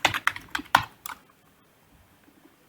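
Keys clatter on a computer keyboard as a project name is entered, about five quick, close keystrokes bunched in the first second before the clicking stops and quiet follows.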